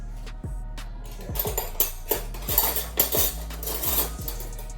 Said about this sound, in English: let me just get a tablespoon.